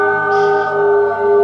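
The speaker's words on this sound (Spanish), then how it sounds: "Toca la campana." A loud, sustained bell tone rings steadily in San José del Pacífico, Mexico, with a long, shimmering resonance that hangs in the air without fading.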